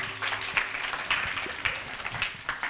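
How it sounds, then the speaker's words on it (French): Children and adults at a Wednesday children's gathering clap, a fairly faint, uneven patter of hands with a few louder claps standing out, some distance from the recorder. "applaudissez très fort"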